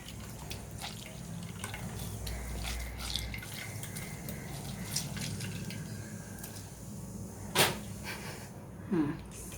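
Soft liquid dripping and squishing close by as tamarind pulp is squeezed and strained, wet trickles and splashes over a low background hum, with no talking.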